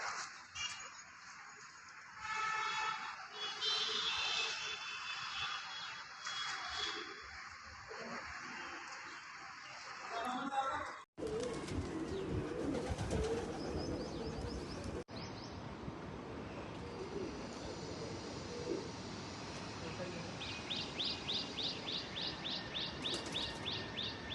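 Pigeons returning to a rooftop in Amritsar during a pigeon-flying event, with bird calls and chirps over a busy outdoor background and a repeated rhythmic fluttering later, fairly loud and close.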